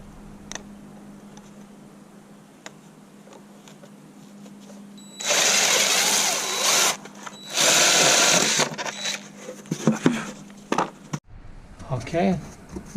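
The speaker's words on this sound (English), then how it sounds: "Over here I have a 1-inch spade bit." A drill driving a 1-inch spade bit bores a hole while converting a school bus into a skoolie, giving two loud, sustained whirring bursts of a few seconds each, with scattered clicks and handling noise around them.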